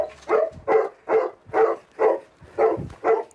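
Golden Retriever search dog barking to signal a find during rescue training, a run of seven or eight steady, evenly spaced barks, close and clear.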